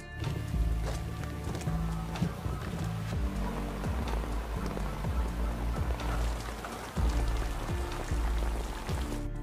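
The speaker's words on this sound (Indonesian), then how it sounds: "Di hujan yang sangat deras" Heavy rain pours down in a steady, dense hiss of drops striking surfaces, loud and continuous with occasional heavier splashes, no voices.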